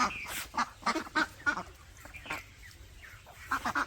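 Repeated loud quacks from Chinese ducks in short bursts, several birds calling close by with brief pauses between the calls.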